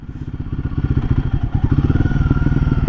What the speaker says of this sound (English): the exhaust is like pop pop pop pop pop pop